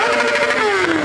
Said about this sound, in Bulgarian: Обичат да правят трикове със своите мотори.